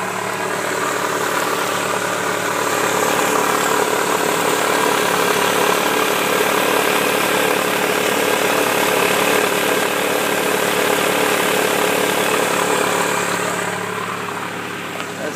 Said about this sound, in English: power steering pump is causing the noise